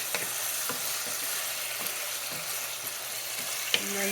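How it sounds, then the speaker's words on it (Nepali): Chicken achar fries in a pan with salt and turmeric, giving a steady, moderately quiet sizzle with faint scraping clicks as it is stirred. No one speaks. "हालेर एकचोटि चलाइदिनुहोस् राम्रोसँग।"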